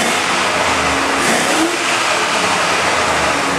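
A 2000 Chevy 6.0-litre LQ4 iron-head V8 with 153K miles revs hard and steady, a loud, continuous engine roar that rises and holds without letting off, close to the mic, with no one talking.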